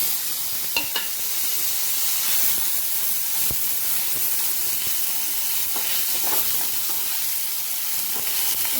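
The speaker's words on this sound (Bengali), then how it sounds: "এবার এই তেলের মধ্যেই এই পনিরটা একটু ভেজে নেব" Paneer pieces fry in oil left over from frying prawns, giving a continuous bright sizzle and hiss with occasional sharp pops and the clink of stirring, close and with no talk.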